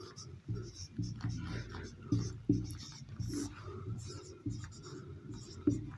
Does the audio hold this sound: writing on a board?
yes